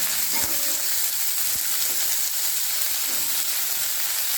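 Finely chopped onions sauté in hot oil for tomato chutney, giving a steady, close sizzle with a few soft stirring scrapes and no talking.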